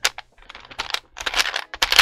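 Typing on a keyboard fitted with Domikey Snaake Chaser Cherry-profile double-shot ABS keycaps: close, crisp clacky keystrokes in irregular bursts and quick runs, fairly loud and alone.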